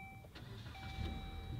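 A 2016 Dodge Journey Crossroad engine is started with a push button: a faint click and a brief crank, then the engine catches and settles into a soft, steady idle rumble.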